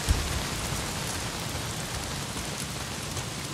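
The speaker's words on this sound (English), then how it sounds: "Well, not if it's pissing down rain" Heavy rain in the video game Days Gone pours down as a steady, dense hiss of drops with no break, fairly soft overall and with no voices.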